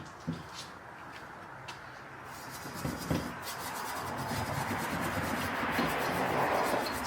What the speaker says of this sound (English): Scotch-Brite is the key. That's what really gives it that brushed aluminum look, that factory frame look.